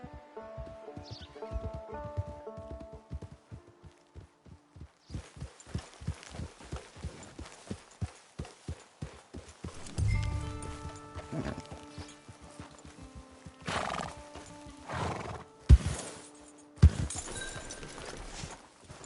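A horse walks on firm ground with a regular, fairly close clip-clop of hooves, joined later by louder bursts of movement and a few sharp thumps.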